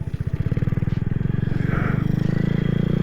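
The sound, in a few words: Honda Grom motorcycle engine revving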